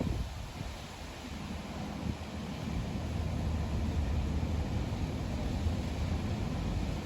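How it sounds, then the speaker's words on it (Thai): Wind blowing at the seaside, a continuous broad roar of gusting air and microphone buffeting that swells slightly after the first seconds and stays steady and loud, with no talk. "หอนลมตลอด"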